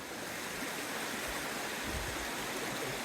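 A waterfall and running water rush outdoors in a steady, broadband wash, moderately faint and constant throughout with no voices.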